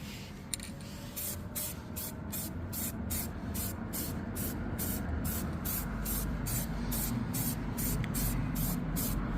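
Spray paint hisses onto Audi TT 8N grills in a run of about fifteen evenly spaced short bursts, close and steady over a constant low background rumble, with no talking.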